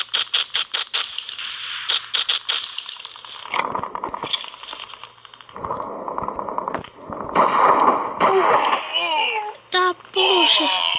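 Gunfire in the mobile shooter game Respawnables comes as bursts of rapid shots and clicks, with someone talking excitedly over the action.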